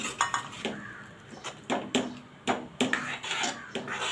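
A spoon scrapes and clinks against a metal pan in a series of uneven strokes as thick tomato puree is stirred up close.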